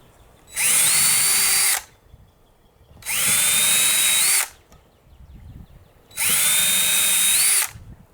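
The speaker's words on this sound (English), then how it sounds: "Definitely going to drill some pilot holes for this." A power drill drills pilot holes in wood in three separate bursts of about a second each, with brief quiet pauses between them, close and loud.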